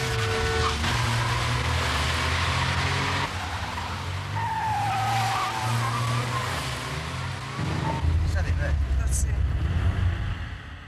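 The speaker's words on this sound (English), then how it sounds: "The robbers swerved into Oxford Road, almost colliding with another car." An Escort getaway car swerves and speeds along Oxford Road, its engine roaring and tyres skidding loudly and continuously, while another car nearly collides and a voice talks over the din.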